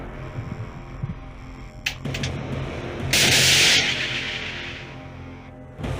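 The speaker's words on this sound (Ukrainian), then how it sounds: "Постріл!" A single loud, sharp blast with a broad noisy burst that lingers and slowly fades, preceded by a few brief knocks over a low hum.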